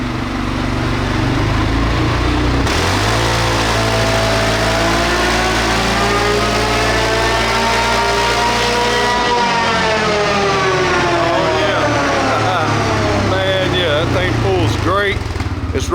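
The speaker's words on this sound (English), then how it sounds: "we're gonna fire up and run it and compare it to stock" A tuned 2022 CFMOTO CFORCE 600 ATV engine runs loud and close. It revs up in a long sweeping climb, the pitch holds and then falls, and it accelerates again. People shout over the engine.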